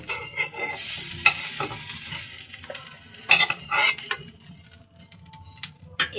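Tengra fish fry in hot oil with a steady sizzle, broken by scraping and clinking of a utensil in the pan. There are a few sharper knocks, and no talking.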